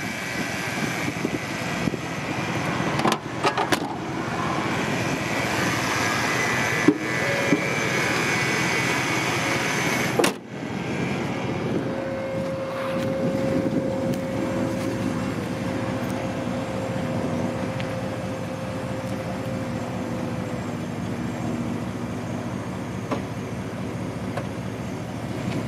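A car at an estate auction idling steadily, then shifted into gear and reversing, a continuous engine drone with a few clunks and a brief whine, heard close and alone.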